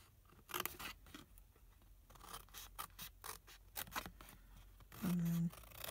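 Scissors snip through patterned foil paper while cutting and notching flaps on a handmade gift box lid, a series of short, quiet crisp cuts at close range, ending in a brief steady tone.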